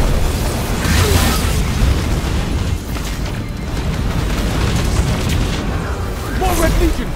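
Missile explosions in the Destiny 2 beta story mode: a dense, loud rumbling wash of booms and blasts throughout, with game voices shouting over the din.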